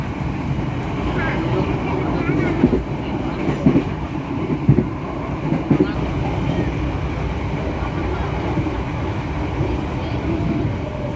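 The Airlangga passenger train runs from Surabaya toward Semarang through rice fields, heard from inside a carriage. A continuous low rumble carries irregular rail clacks and thumps, with a voice faintly present under the noise.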